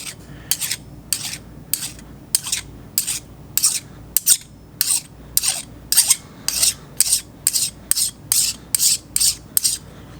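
Steady, rhythmic rasping strokes come from a metal file working a piece flat on an octagonal ring mandrel, with about fifteen even back-and-forth scrapes that are close and loud, and no speech.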